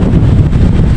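Very strong wind roars continuously and loudly at sea during stormy, rainy weather on a fishing outing, buffeting the microphone with a dense, steady rush and no voices.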